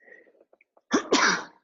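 A single sharp human sneeze bursts out close and loud, split into two quick explosive parts, after a few soft breathy sounds and a faint short voice.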